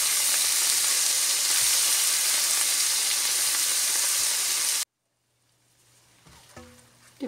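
Tomatoes fry in a pan, cooking down toward a paste for butter chicken, a loud dense sizzle that cuts off abruptly, then quiet stirring scrapes and faint kitchen sounds.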